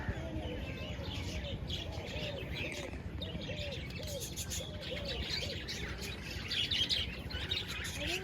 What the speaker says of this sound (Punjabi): ਕਿੰਨੇ ਸੋਹਣੇ ਤੋਤੇ ਚਿੜੀ ਨੇ